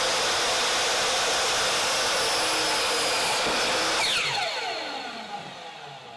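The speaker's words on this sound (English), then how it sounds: "I'm going to use a miter saw to cut mine" A miter saw whines loudly at full speed while cutting wooden boards for a raised garden bed, then its motor winds down with a falling pitch and fades over the last couple of seconds.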